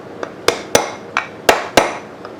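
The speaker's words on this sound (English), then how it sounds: "I'll just get the magic hammer and hit him from behind" Hammer blows strike a part during a motorized scooter build: five sharp, loud metallic hits at uneven intervals, each ringing out briefly before the next, with a softer tap between them.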